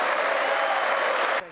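Applause from lawmakers at a congressional speech, a dense, steady clapping that holds loud and close, then cuts sharply near the end to a quieter tail.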